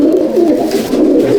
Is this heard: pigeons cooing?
yes